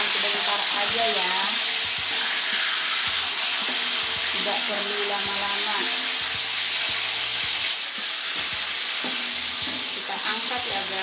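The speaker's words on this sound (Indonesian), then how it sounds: "harus hati-hati benar ini goreng cabai, soalnya suka meletup-letup." Chili peppers fry in hot oil for a Batak andaliman sambal, giving a loud, steady, crackling sizzle with occasional stirring. A voice speaks briefly over it.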